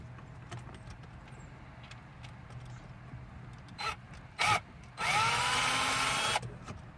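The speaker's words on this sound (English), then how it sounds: "I have one of these angle drills." A cordless angle drill removes screws from gauge mounting brackets, with a couple of short whirring bursts followed by a longer, louder spin of about a second and a half, heard up close with light handling noise.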